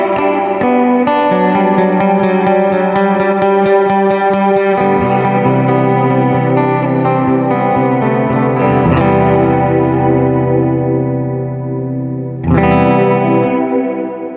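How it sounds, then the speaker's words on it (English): Walrus Audio R1 reverb pedal on electric guitar set to a big, flatulent-sounding reverb: sustained, heavily processed chords with a deep low drone, swelling and decaying, then a fresh strummed attack near the end, loud and alone. "Big farting reverb."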